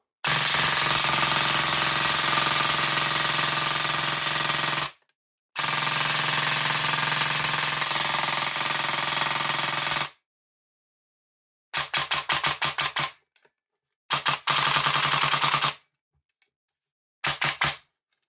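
An airsoft gun firing in full auto mode: long, loud, sustained rattling bursts close up, then several shorter bursts separated by silence.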